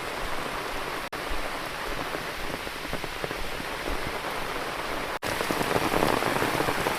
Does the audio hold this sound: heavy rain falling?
yes